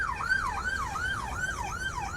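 Police car siren wailing in a steady rising-and-falling cycle, loud and continuous, with traffic noise underneath.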